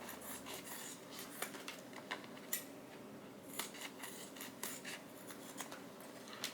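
Scissors cutting through a KN95 face mask, a quiet run of repeated snips and rubbing crunches spaced every half second or so, close and alone.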